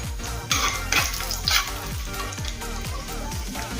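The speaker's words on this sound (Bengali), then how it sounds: "কড়াইতে দেবো আরও 1 চামচ মতো সাদা তেল, আর তেলের মধ্যে দেবো ফোড়নে গোটা জিরে, তেজপাতা, লবঙ্গ, এলাচ," Whole cumin, bay leaf, clove, cardamom and cinnamon frying in a spoonful of white oil in a kadai, a steady sizzle with a few louder hissing bursts and faint metallic stirring clinks.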